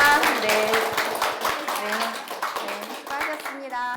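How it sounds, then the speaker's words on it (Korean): An audience at a village poetry recital bursts into a few seconds of brisk, close applause as the event ends, with voices chattering over the clapping. "저희 같이 서로에게 박수를 보내면서 마무리하겠습니다"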